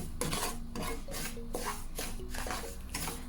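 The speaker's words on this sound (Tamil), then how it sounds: "இனி அதே சட்டியிலேயே ரவையை போட்டு வறுக்க போகிறேன்." Semolina (rava) is dry-roasted and stirred in a pan on medium-low heat. A utensil scrapes the pan in about six rhythmic rasping strokes, close and fairly loud.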